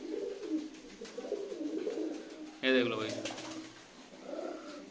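Punjabi and Madrasi pigeons kept for sale coo close by, a throaty rolling coo rising midway over someone talking, with softer bird murmurs around it.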